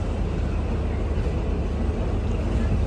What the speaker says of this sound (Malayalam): നിലവിലിപ്പോൾ ഇന്ത്യയിലെ ഏറ്റവും പവർഫുൾ ലോക്കോ ഇതാണ്